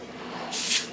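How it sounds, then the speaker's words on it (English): Short hissing burst of Pam cooking spray from an aerosol can onto a skillet, a single close spray lasting about half a second after a quiet moment. "All right, let's spray this skillet."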